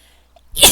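A single close, sharp sneeze bursts out after near silence in the Firewatch video game, loud and brief with no talking.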